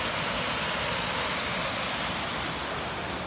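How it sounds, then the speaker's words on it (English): Laurel Creek Falls on the Foothills Trail, a waterfall roaring in a steady, dense broadband rush, loud and close, constant throughout with no talk. "So on the way to our campsite for tonight, Laurel Creek Falls. Pretty special."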